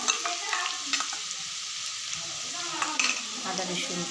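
Potatoes, onions, ginger and garlic frying in a pan, a continuous close sizzle with a few spoon scrapes and clinks as the mixture is stirred.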